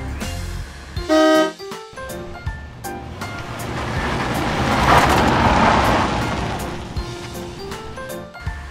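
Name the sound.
toy taxi horn sound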